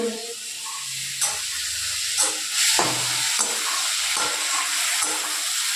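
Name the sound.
frying in a pan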